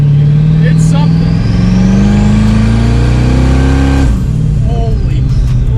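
A 1,000 hp twin-turbo Corvette engine roars loudly as it accelerates, pitch climbing steadily as boost builds, before a brief shift and renewed pull, with a voice talking over it.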